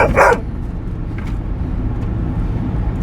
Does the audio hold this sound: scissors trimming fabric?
no